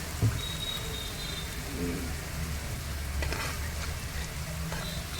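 Onions sprinkled with salt fry in a pan with a soft, steady sizzle and faint crackles, occasional stirring scrapes mixed in and a voice speaking quietly in the background.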